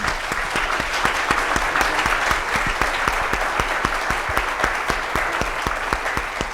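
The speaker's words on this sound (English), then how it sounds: "Could we have a round of applause for our panelists here?" An indoor audience at a local panel discussion gives the panelists a steady round of applause, dense clapping sustained evenly throughout with no talk over it.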